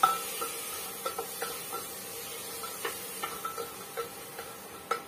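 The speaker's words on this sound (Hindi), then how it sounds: "टमाटर को हिलाएंगे" A spoon stirring tomatoes in a cooking pan while making a spicy tinda dal dish: soft, faint scraping and tapping clicks at an irregular, steady pace, with no talking.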